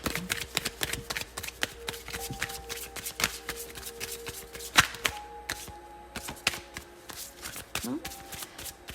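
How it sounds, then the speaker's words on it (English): Tarot cards are shuffled by hand in quick bursts of crisp riffling and soft taps against a surface, close and fairly quiet, with a faint steady hum underneath. "as always, I will shuffle live"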